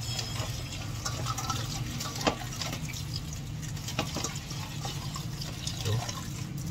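Water runs steadily from a tap while fish are washed in a sink, a close continuous splashing and trickling stream with small fluctuations and no talk.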